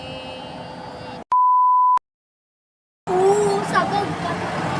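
A single steady censor beep, loud and flat, cuts across casual Filipino chatter among friends during a truth-or-dare game, lasting about a second before a brief silence and the voices resuming.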